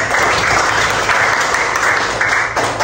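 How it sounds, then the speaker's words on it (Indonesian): Classroom applause from students after a Pancasila lesson, a steady dense wash of many hands clapping throughout, loud and close, with no pause. "Oke, kasih tepuk tangan ya."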